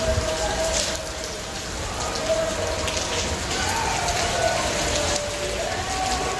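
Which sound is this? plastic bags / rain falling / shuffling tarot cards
rain falling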